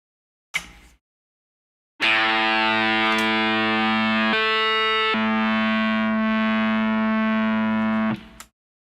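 A plucked guitar note through a Digitech Whammy octave pitch shifter, then a sustained distorted tone whose pitch jumps up an octave and back down in the middle before fading out.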